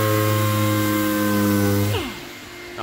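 Power sander working the bodywork of a classic French car before painting, a steady high whine that suddenly spins down and fades, close by with no voices.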